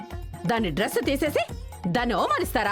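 A female dog barks in a Telugu TV drama scene, the yaps mixed under loud, emotional overlapping talk from a woman and others.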